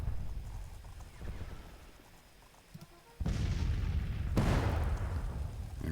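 Artillery fire in a Civil War strategy game set at the Battle of Winchester. A low rumble gives way to heavy booming blasts that roll into a sustained roar; no voices.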